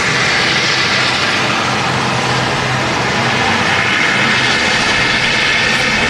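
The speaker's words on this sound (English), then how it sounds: "Also from Dublin is the Ryanairs 737. That's just had to do a go around." Ryanair Boeing 737 from Dublin going around at Manchester Airport, a loud sustained jet engine roar with broad rushing noise that holds steady throughout, no talking.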